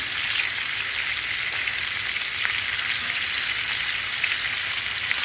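Chicken pieces brown in a hot pan for lemon garlic chicken, giving a close, even, continuous hiss and crackle with no voices.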